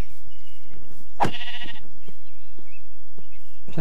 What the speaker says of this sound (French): Ah! Mouton!